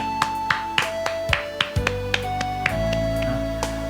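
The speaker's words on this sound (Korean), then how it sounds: "우리 하나님께 감사의 박수 올리겠습니다." A church congregation claps together during a Wednesday worship service, with a steady run of evenly spaced claps over sustained organ-like tones.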